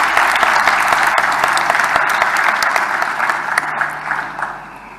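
Dense applause from a crowd for a CEO at an election results announcement, steady and loud, gradually thinning toward the end.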